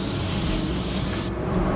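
A spray gun lays on a waterborne pearl white base coat with a loud, steady hiss up close, cutting off abruptly near the end.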